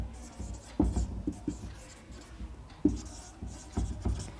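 A pen writes an accounting entry by hand, making quiet, close scratchy strokes in short irregular bursts with brief pauses between.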